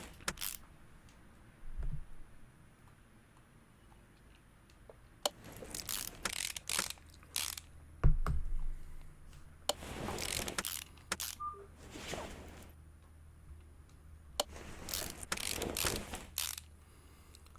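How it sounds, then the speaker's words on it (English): Bolts on crankshaft bearing and rod caps are tightened in Car Mechanic Simulator on Xbox One, heard as short bursts of ratcheting, whirring mechanical clicks, separated by quieter gaps. "you guys can hear the sounds of the bolts going in and all"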